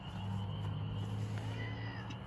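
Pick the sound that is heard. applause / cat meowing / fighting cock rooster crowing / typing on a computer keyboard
cat meowing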